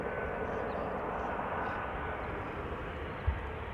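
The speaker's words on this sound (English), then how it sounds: "Embraer 190 arriving from Helsinki," An Embraer 190 airliner arriving at Amsterdam Schiphol, a KLM flight from Helsinki, gives a steady broadband jet engine roar at moderate distance, constant throughout with no talk.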